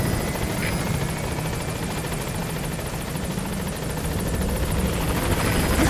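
The Pequod support helicopter in Metal Gear Solid V arrives at a landing zone: a steady, loud rotor roar with a dense rumble that holds level from start to finish, with no voices over it.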